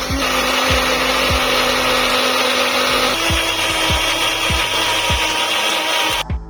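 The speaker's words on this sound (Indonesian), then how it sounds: "Kemudian kita bisa haluskan kembali sampai benar-benar halus ya." Blender grinding rawon spice paste until smooth, a loud continuous motor whir with a rhythmic thumping churn as the paste cycles, running throughout before stopping at the end.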